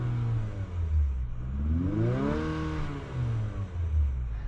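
A 2024 Infiniti QX50 revving while parked, its engine and exhaust rising to a peak and settling back down in a single smooth sweep, fairly subdued and heard without talk.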